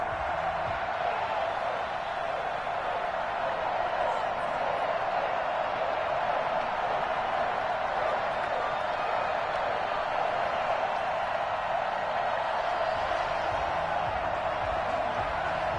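Steady roar of a sold-out NFL stadium crowd at Gillette Stadium as the Patriots are introduced before facing the Miami Dolphins, a dense, continuous wash of distant massed voices and cheering that holds level throughout with no clear words.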